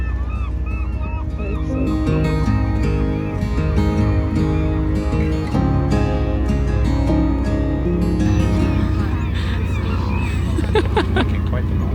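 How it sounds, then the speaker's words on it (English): Sea lions on rocks in Glacier Bay, Alaska, bark and honk repeatedly in a noisy chorus, mixed with people talking nearby. "Lots of sea lions over here on the rocks."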